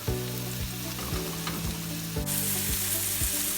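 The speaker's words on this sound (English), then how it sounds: "I'm adding my floured up veal to it" Floured veal fries in hot grapeseed oil with a dense, steady close-up sizzle, accompanied by a tonal humming background that rises and falls in pitch.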